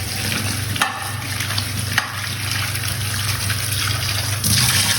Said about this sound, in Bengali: এবার আলুগুলোকে ভালো করে ধুয়ে নিই।